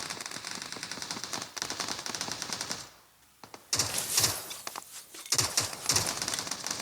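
Rapid automatic rifle fire from SCAR rifles in a shooting video game, long rattling bursts that cut out for a near-silent gap around the middle, then resume with sharp, close, loud volleys.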